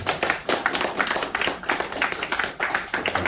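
An audience at a lecture hall special talk claps together, giving a dense, even run of hand claps that holds steady throughout without voices.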